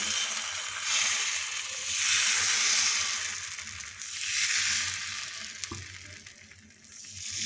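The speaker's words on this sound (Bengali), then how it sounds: "তাড়াতে তেল বুলিয়ে দিলাম তারপর কালারফুল ব্যাটারটা এইভাবে ছেড়ে দিচ্ছি" Colored rice batter for saru chakli pitha spreads on an oiled iron tawa with a loud, broad hiss that swells and fades in waves, plus a brief sharp tap near the end; no voices are heard.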